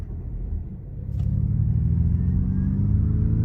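A Ford Mustang Mach-E electric car hums and rumbles steadily with its propulsion sound as it speeds up, a low drone swelling slightly, with no talking.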